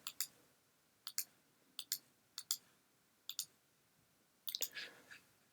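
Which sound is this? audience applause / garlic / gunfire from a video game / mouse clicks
mouse clicks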